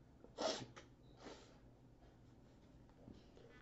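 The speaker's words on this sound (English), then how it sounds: "I'm gonna sneeze." A single sharp sneeze bursts out near the start, followed by a softer exhale or second snort, heard close in a quiet indoor room.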